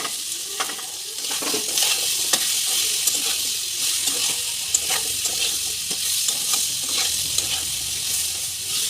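Pumpkin being stirred in a hot pan with cumin and ginger powder, sizzling steadily throughout with repeated scraping clinks of the spoon against the metal, close and fairly loud, no voices.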